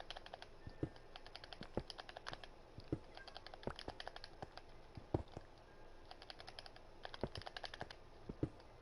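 Rapid, close clicks of keyboard or mouse buttons during a Minecraft session come in quick uneven bursts, crisp and dry against a quiet room, with no voice.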